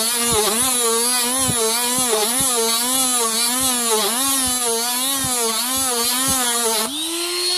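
A rotary tool whines steadily while polishing the sealing surface of an oil rail ball tube on a Ford 6.0L high pressure oil rail, a loud continuous buzz with a wavering pitch that dips briefly near the end.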